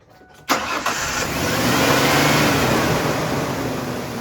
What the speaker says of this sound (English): Okay, let's start it back up.